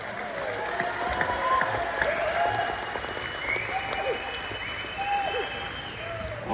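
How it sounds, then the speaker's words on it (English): Sustained crowd applause for a speaker, a continuous rattle of many hands at moderate distance, with faint cheering and voices mixed in throughout. "Let's give him a round of applause one more time."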